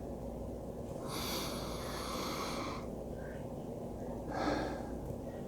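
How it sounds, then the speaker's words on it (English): Slow, deep breaths taken close by, two long airy inhale-exhale swells followed by a shorter one, quiet and alone over a faint background hum. "Just go ahead and take 3 long, deep breaths."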